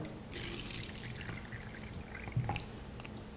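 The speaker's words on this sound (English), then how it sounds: "fill it up with water" Kangen water streams and trickles steadily into a cup with a tea bag, a soft continuous pour with faint splashy drips, fairly close and unaccompanied by voices.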